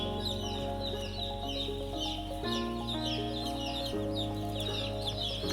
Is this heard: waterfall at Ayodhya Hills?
no